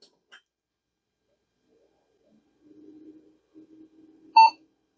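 A single short electronic POST beep from a 1999 Intel Celeron 400 PC starting up rings out clearly near the end, preceded by faint low hum and small clicks in an otherwise quiet room.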